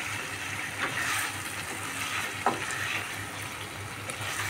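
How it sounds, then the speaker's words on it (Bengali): Chicken cooking down with spice paste in a pan for a Bengali chicken curry gives a steady, close sizzling fry, with occasional soft scrapes of a stirring spoon and no voices. "চিকেনটাকে ভালো করে কষিয়ে নেব।"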